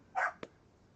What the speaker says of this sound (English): My dogs, are you guys gonna make a ruckus the whole time we're yogaing?